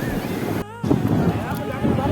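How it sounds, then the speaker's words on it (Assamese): Waves roll onto a sandy beach with a constant rushing wash and wind on the microphone, interrupted by a brief dropout, while a faint voice talks underneath. "চাবা দেই ঢৌটো কেনেকৈ আহে।"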